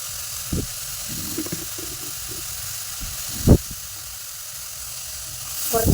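Onion, green chilli and ginger with turmeric frying in a pan, giving a steady close sizzle and hiss, with a few brief knocks of a utensil.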